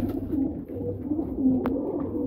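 High flyer pigeons coo in low, soft, repeated murmurs close by, with a brief faint rustle partway through.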